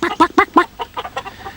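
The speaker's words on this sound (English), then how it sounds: "they squawked in alarm." Broody hens on their nest boxes squawk in alarm, giving a rapid run of loud, close clucks that fade into softer, quicker calls.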